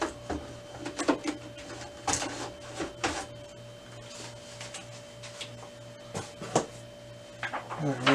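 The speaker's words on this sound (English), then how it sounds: "I'm going to grab some paper here and go put it in the printer" Paper loaded into a Canon Pixma TS202 printer: soft rustles, clicks and taps of sheets and the paper tray, with a steady low hum underneath and a short louder clatter at the end.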